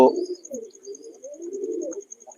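Pigeons inside a lit pigeon loft, soft low cooing repeated in short rolling phrases close by, with a faint high tone running underneath.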